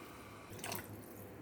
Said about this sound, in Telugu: నీళ్ళు వేస్తున్నాను